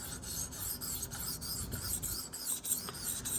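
A Kershaw 8650 knife blade being ground on a sharpening stone gives a steady, close rasping scrape, with repeated strokes running continuously and no voices.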